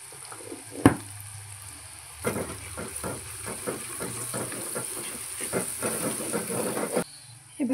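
Boiled potato pieces roast in a pan with turmeric for a yellow potato bhaji, giving a steady hiss and sizzle with scattered crackles and a loud clatter near the start.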